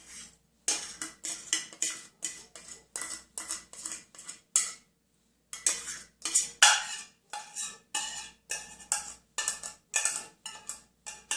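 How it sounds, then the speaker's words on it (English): Chopped canned clams tumbling into a pot for clam chowder, heard as a close, rapid series of clinking, scraping metal-and-glass clatters in uneven bursts with a brief pause midway. "I am going to now dump in those clams"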